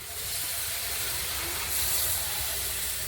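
Water poured into a hot pan of spiced potatoes and figs sends up a loud, steady sizzling hiss that holds without a break, with no talking.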